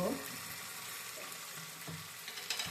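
Curry frying and being stirred in a pan, a steady soft sizzle with occasional scraping stirs and clatter, faint and close, with no talking.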